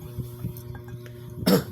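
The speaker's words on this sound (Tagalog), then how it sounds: "Medyo inuubo si host." A short cough from an asthmatic woman at home over breakfast, a single burst near the end after quiet background noise, close and moderately loud with no talk.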